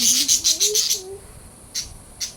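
Caged pet birds chirping nearby, a quick burst of sharp repeated tweets followed by a pause and two more isolated chirps, fairly loud and close.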